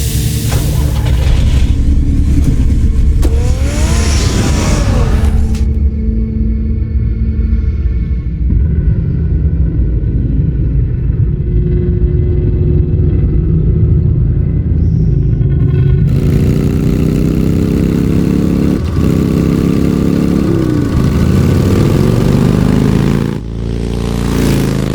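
A car engine in the Batman Telltale Series video game rumbles and revs loudly and continuously, with a rising acceleration whine near the end over low engine drone.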